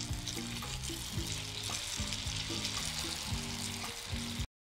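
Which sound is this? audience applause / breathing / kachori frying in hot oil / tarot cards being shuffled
kachori frying in hot oil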